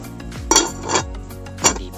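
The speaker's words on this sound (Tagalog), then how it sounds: "Takpan uli natin." A metal lid is set back onto a pot of pork leg boiling with lemongrass, giving several sharp clanks and rattles close by, over a low simmering rumble, with no talking.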